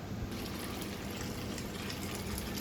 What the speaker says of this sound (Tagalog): Dinagdagan uli ng tubig mga boss.